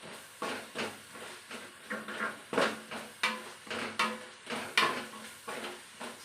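Onions and small shallots sautéing in chicken-frying oil in a pan, stirred with a utensil in a steady rhythm of scraping clinks over a soft sizzle, close up.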